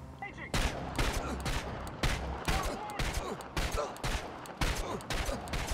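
Sharp single shots from a gun in Chernobylite fire in a steady rhythm, about a dozen loud reports over several seconds as a magazine is emptied, with game sounds between them.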